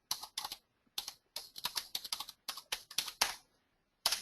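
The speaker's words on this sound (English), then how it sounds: "now it's recording everything I'm typing" Someone types on a computer keyboard, entering a username and password in bursts of quick, close, crisp key clicks with short pauses between them.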